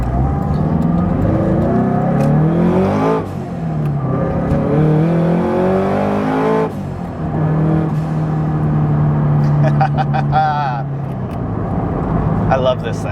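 A turbocharged Subaru BRZ pulls hard from inside the cabin, its engine droning and rising through the revs with a steady loud roar, while a driver talks over it.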